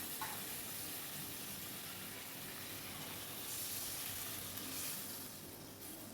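Water poured into a vegetable curry in a hot pan on a home stove sets off a steady, soft hiss and sizzle of steam that swells slightly midway, then eases off.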